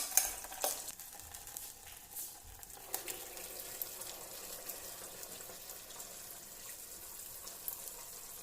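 Melted sugar is poured into simmering Onam rice payasam, producing a low sizzling bubble with a faint liquid trickle and occasional soft stirring clicks, quiet and steady without speech.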